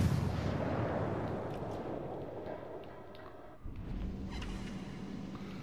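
Naval ship guns fire in a battleship video game, a heavy booming salvo with rumbling echoes that fade, then a fresh blast partway through, with no talk over it.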